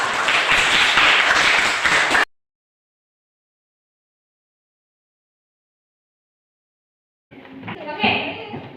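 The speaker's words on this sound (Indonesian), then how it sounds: "Aplaus yang meriah untuk kelompok" Applause from students in a classroom for a presenting group, a dense burst of clapping heard briefly and loudly before silence, followed later by a voice speaking.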